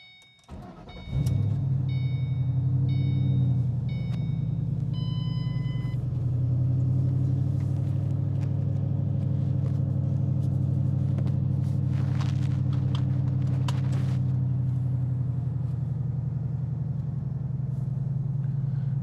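A 2007 Ford Mustang GT custom V8 cranks and fires up, then settles into a steady, deep rumbling idle close by, with a few faint clicks and knocks over the engine hum.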